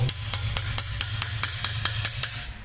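A silversmith hammers metal to shape a piece by hand, about a dozen crisp, ringing blows landing at a steady, even rhythm, close and loud, over a low background hum with no talk.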